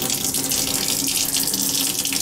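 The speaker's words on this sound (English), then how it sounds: "Pushing all the water out, the hot, and we'll do a cold also." Steady rushing of water pouring from a faucet in a barn summer apartment while plumbing lines are bled after the tank was drained for winterizing, continuous and close with no talk.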